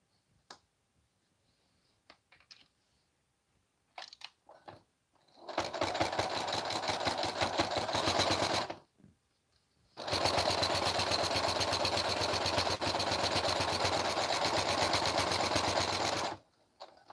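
Sewing machine tacking down a bag liner, running in two long continuous bursts of rapid, even stitching with a short pause between, close and loud, with faint clicks before it starts.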